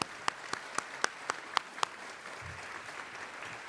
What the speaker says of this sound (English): How about a round of applause for our pipe and drum?